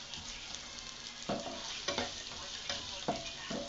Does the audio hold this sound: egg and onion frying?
yes